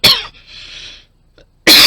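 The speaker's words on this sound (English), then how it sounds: "Sorry, I had to cough, so I muted my microphone." A person coughs close to the microphone: one harsh, loud burst right at the start, a quiet breathy pause, then a second forceful cough cut off at the end.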